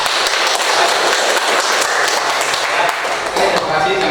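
A classroom of students claps together, loud and continuous, with a busy rattle of many hands filling the room and faint voices mixed in beneath.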